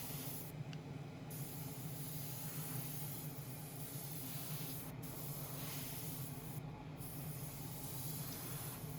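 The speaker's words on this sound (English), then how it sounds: "So just spraying it down as I would do on the bodywork" Spray gun laying a 2K diamond clear coat onto carbon model car parts for an Alfa Romeo Giulia Quadrifoglio kit, a steady close hiss running throughout with brief pauses between passes.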